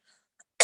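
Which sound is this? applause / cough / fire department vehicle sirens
cough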